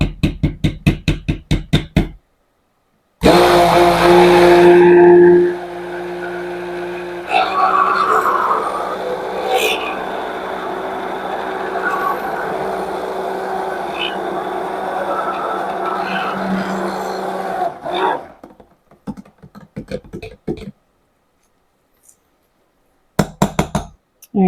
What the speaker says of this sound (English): I'm going to get our hand mixer out.